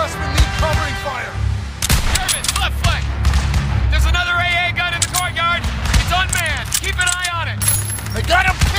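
Heavy gunfire in a World War II battle video game, loud bursts and rapid shots with booms throughout, while voices shout over the fighting.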